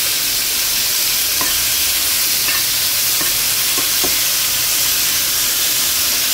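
Boiled bitter gourd pieces frying in oil with dried red chillies and curry leaves for a curry, a steady loud sizzle with occasional stirring scrapes in the pan.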